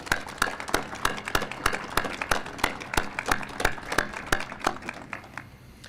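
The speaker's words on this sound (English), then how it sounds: "Let's please give them one more round of applause." Applause at a university war memorial ceremony in San Diego, heard as a steady run of distinct, fairly close hand claps at an even rhythm that thins out and fades toward the end, with no talking over it.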